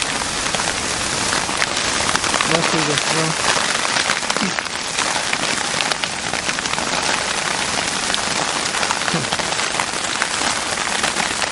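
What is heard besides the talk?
rain storm at a river campsite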